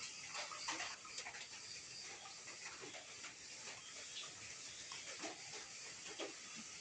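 Rainwater drips from rubber trees onto a roof on a quiet night, soft irregular taps and plinks scattered over a faint steady hiss of wet surroundings, distant and low in volume.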